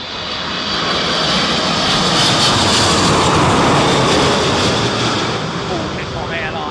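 All Nippon Airways airliner landing at Heathrow in storm-force winds, a loud continuous roar of jet engines with rushing wind, sustained and fairly close throughout.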